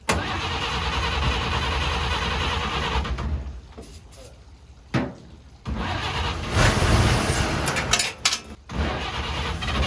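Engine of a 1953 Chevy 3100 pickup, unstarted for over 40 years, cranking loudly, dropping away briefly, then catching and running with revving bursts near the end.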